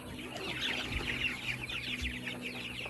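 Meat chickens, moved from indoor brooders, cluck and chatter steadily in an outdoor pen: a dense, continuous flock murmur at close range with overlapping calls and a faint steady hum behind, no voices.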